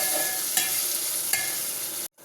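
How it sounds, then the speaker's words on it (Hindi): Green chillies and tomatoes fry together in a pan with a loud, dense, continuous sizzle, two quick stirring scrapes, then a sudden cut to silence at the end. "हरी मिर्चों को भी ना मैं टमाटर के साथ भून लूँगी।"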